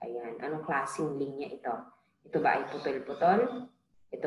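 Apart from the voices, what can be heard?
No everyday noise stands out behind the speech.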